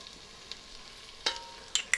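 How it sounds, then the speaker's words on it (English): Onion, salt and pepper fry quietly in melted butter over medium heat: a faint, steady sizzle broken by a few sharp clicks and pops near the end. "that butter is melted, so in goes the onion"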